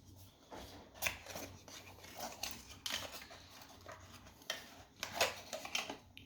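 Dior Sauvage perfume packaging being opened, with scattered soft rustles, rubs and crinkles of card and wrapping, close and fairly quiet, a few sharper scrapes standing out.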